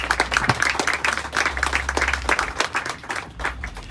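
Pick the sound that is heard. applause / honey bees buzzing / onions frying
applause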